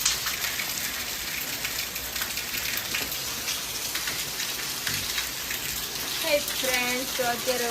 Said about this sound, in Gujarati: રાતના 12 વાગ્યાની સાથે જુનાગઢમાં ધોધમાર વરસાદ ચાલુ થઈ રહ્યો છે.